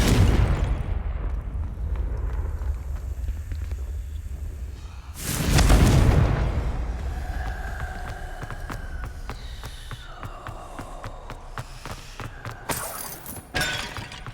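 A Confringo blasting spell detonates with a loud booming crash in Hogwarts Legacy, a single blast after a sustained rumble, followed by crackling debris and fading magical shimmer.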